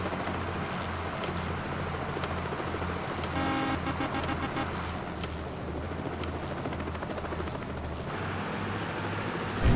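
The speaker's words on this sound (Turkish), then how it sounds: "Helikopter de mala döndü. Bir sağa gidiyor bir sola." Helicopter in the Bus Driver video game, a steady droning rotor and engine hum running through the whole stretch, with a brief horn-like tone sounding partway through.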